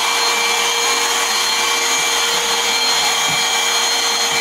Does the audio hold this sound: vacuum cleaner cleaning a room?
yes